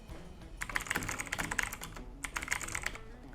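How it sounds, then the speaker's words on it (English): Keys clack on a computer keyboard in two quick bursts of typing with a short pause between them, close and moderately quiet. "Next, I'm going to hit T on my keyboard."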